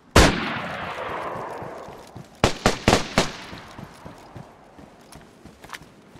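Gunfire in the video game DayZ: a single loud shot with a long echoing tail, then about four sharp shots in quick succession, followed by fainter scattered pops.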